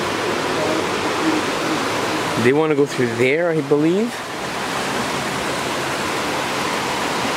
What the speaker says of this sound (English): We're actually at the little river right by it.